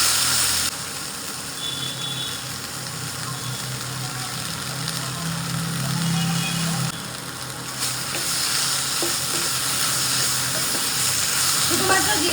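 Okra sliced for a curry sizzles and fries steadily in a pan, a continuous close hiss with occasional stirring scrapes and no voices.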